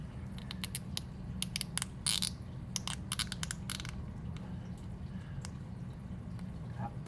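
A plastic zip tie ratchets tight around the power cord and handle of a Vortech MP40 aquarium pump, a rapid run of close, sharp clicking ticks that slows and fades over several seconds against a steady low hum.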